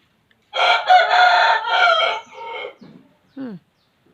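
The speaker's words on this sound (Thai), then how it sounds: "ไก่ก็มาขัน" A rooster crows loudly and close by in a rural Thai setting: one long crow followed by a short trailing call, clear against otherwise quiet surroundings.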